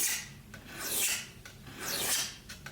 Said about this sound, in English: So sharpening the trusty old kitchen knife on the strop.